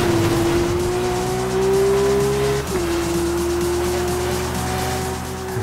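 A race car's engine in Need for Speed Rivals holds a loud, steady high-pitched drone, dipping briefly midway before settling back to a constant whine, with no voices over it.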